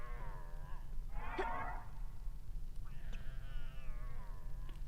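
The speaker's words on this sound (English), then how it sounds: "God, her meowing is vile." A cat in a video game meows a few times, drawn-out and whiny, over a steady low hum in the background.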